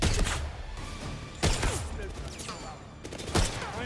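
Gunfire in the video game 007 First Light, with loud bursts of shots at irregular intervals over a busy, rumbling background, and faint voices in the mix.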